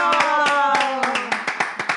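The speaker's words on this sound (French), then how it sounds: "Et donc, on va applaudir quand même tout ça." Studio audience clapping for a sports segment presenter's final appearance on a French show, sharp claps forming a steady patter that thins into separate slaps toward the end, with a voice and laughter layered over it.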